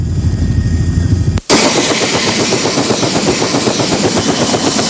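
Helicopter carrying passengers to Port-au-Prince after the 2010 Haiti earthquake: a low engine drone cuts out briefly, then a loud, close, steady rotor and turbine roar with rapid pulsing fills the cabin.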